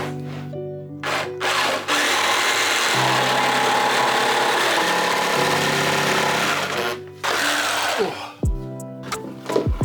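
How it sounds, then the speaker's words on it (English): A table saw rips a straight-grained, quarter-sawn wooden board lengthwise. The blade's motor hum rises, and its pitch shifts as the board feeds through the cut, then drops away near the end. No voices. "Then rip it down on the table saw."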